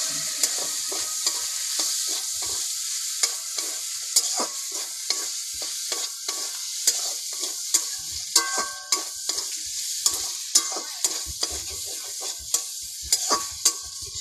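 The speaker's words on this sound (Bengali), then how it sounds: "এবারে আমি ভেজে রাখা আলুগুলো দিয়ে দেবো। ভালো করে নাড়াচাড়া করে নিয়ে" Fried potatoes being stirred into a spicy snail curry in a pan, with steady sizzling under repeated scraping, clattering spoon strokes, close and continuous without talk.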